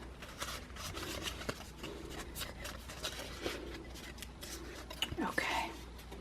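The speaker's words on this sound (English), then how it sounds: "Now we can fold our score lines" Paper card stock being creased and folded along scored lines while assembling a small treat box; close, soft crinkling and rubbing rustles with light handling taps throughout.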